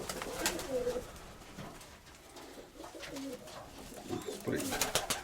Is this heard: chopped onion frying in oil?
no